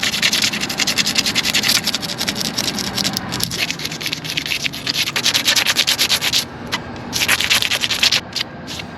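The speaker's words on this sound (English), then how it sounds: "take a razor blade flat. You want the blade to be parallel to the transom and just kind of scrub it." A razor blade held flat scrubs white silicone sealant off a boat transom in rapid, close, rasping back-and-forth scrapes, nearly continuous with a couple of brief pauses.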